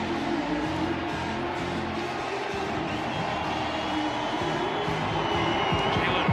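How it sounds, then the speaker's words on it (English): Feisty football crowd at a Denver stadium during an Eagles vs Broncos game, a steady broad roar of many voices that holds at an even level throughout. "Feisty crowd"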